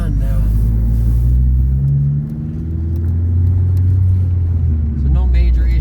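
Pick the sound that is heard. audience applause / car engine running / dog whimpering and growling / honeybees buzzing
car engine running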